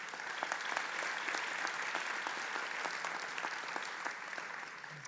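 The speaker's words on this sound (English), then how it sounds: "That's worth applauding." Sustained applause from a large audience at a presidential speech on student debt relief, a broad, even wash of clapping heard from a moderate distance with no voices over it.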